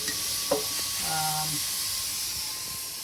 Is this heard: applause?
no